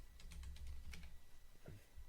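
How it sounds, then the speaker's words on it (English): Faint rapid keyboard typing, a few quick clicks set under low background hum and rumble, with a brief low tonal sweep near the end. "I heard you typing"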